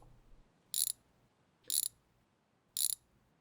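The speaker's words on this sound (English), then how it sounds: "Let's start undoing some bolts." Three short, crisp ratchet bursts spaced about a second apart as bolts are undone on a car's suspension during a spring and shock replacement, each one brief and clear against a quiet garage background.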